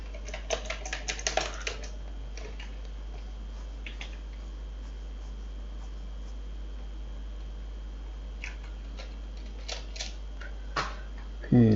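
Light clicks of typing on a computer keyboard come in short bursts with quiet pauses between them, close and faint over a low steady hum.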